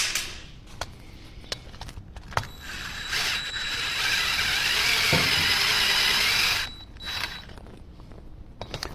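Ratchet wrench working loose a clamp on a 1974 Harley-Davidson Shovelhead motorcycle; several sharp clicks, then a sustained ratcheting whir for a few seconds, then more scattered mechanical clicks, close up.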